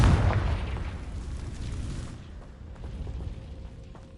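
A Confringo blasting spell explodes in Hogwarts Legacy, a deep booming burst at the start that rumbles and fades away over several seconds, with no speech.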